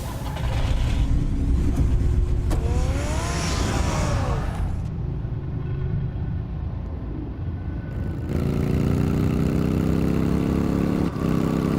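The Batmobile's engine in Telltale's Batman rumbles loudly, starting up with rising revs, then settling into a steady low drone that swells again toward the end.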